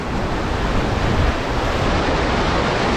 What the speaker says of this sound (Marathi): एकदम असं खळखळून वाहणारं पाणी आहे या ठिकाणी